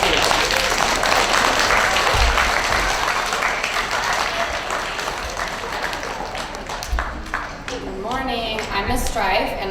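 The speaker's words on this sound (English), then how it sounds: "so let's give Kaden a cheer" An audience cheers and applauds student of the month Kaden at Jefferson school, dense clapping throughout that slowly thins before a speaker begins talking near the end.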